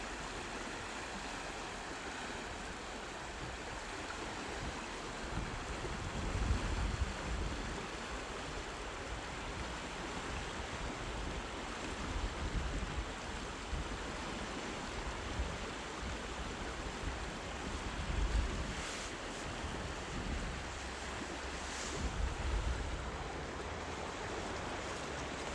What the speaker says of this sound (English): This is a very rapid area here. You can see the water is flowing really,